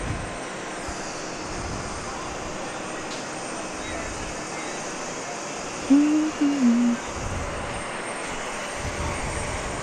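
Airplane taking off at JFK airport, a steady broad jet engine roar filling the whole span at moderate distance, with a brief voice speaking over it midway.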